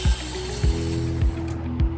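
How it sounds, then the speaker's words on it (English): A cross screwdriver works screws loose at the base of a steering wheel for a Tesla Model Y or Model 3, giving four evenly spaced ratcheting clicks over a faint mechanical hum. "Use a cross screwdriver to unscrew the 2 screws on the base."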